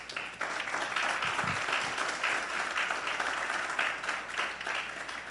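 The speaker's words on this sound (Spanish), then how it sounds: "Entonces, denle un aplauso a Dios." A church congregation bursts into sustained applause during a sermon, a dense, fairly loud wash of clapping filling the room continuously for about five seconds.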